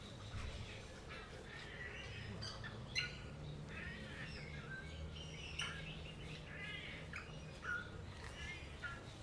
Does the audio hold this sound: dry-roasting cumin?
no